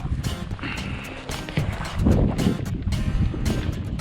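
Gusty winter wind by the Western Bug river buffets the microphone in rough, uneven bursts, loud and close, with a rushing rumble that rises and falls.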